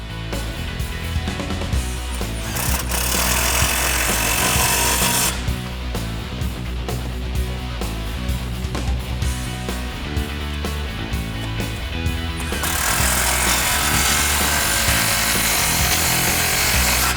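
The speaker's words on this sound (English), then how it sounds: "now we can grab our 15mm socket and tighten down that clamp" A power tool with a 15mm socket runs on the exhaust clamp of a 1999-2004 Mustang GT during a Borla cat-back install, a loud continuous grinding whir with a choppy pulsing stretch in the middle.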